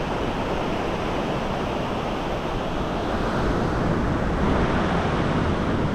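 Surf washing steadily onto a quiet beach in Mazatlán, a constant dense roar with gentle swells in loudness and no voices over it.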